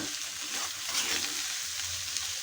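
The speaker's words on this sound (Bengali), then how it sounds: "আবারও আমি একটু জাস্ট একটু এভাবে একটু নেড়ে নিচ্ছি" Bitter gourd frying in a pan while being stirred, giving a steady close sizzle with soft scraping movements throughout.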